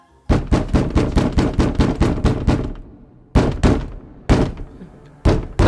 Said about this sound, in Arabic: لحظه ولدي الباب يدق.